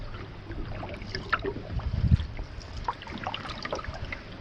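Canoe paddle strokes on a lake with light choppy water, soft splashes and drips repeating close by over a steady wash of water and faint wind, with no talking.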